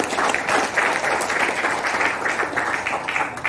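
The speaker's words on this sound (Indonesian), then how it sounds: "Tepuk tangan sekali." An audience at a seminar in Surabaya bursts into loud, dense applause that holds steady for the whole stretch, with no speech over it.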